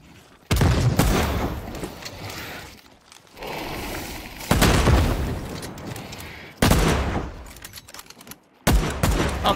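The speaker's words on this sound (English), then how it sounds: "I'm gonna throw a grenade" Grenade and gunfire blasts in the shooter game The Cycle: Frontier, several loud sudden booms, each followed by a rumbling decay, separated by quieter gaps.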